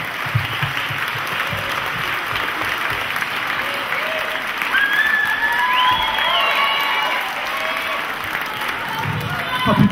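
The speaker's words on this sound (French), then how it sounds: "On l'applaudit, elle nous rejoint sur scène" A live stage-show audience applauds and cheers as a singer walks on, a thick continuous wash of clapping with whistles and shouts rising above it, swelling toward the end.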